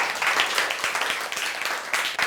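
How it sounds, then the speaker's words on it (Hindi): A classroom full of students claps enthusiastically for two helpful classmates, a continuous patter of many hands with sharper individual claps standing out, fairly close. "इनके लिए जोरदार तालियां"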